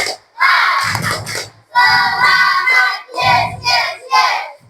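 An elementary school classroom of children chanting and clapping a rhythmic spirit cheer, loud bursts of shouted voices with hand claps in several phrases separated by short pauses.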